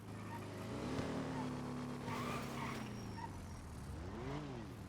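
A car engine drones steadily at close range during a chase in GTA NoPixel, its revving pitch rising and falling with brief tire noise, while voices murmur faintly underneath.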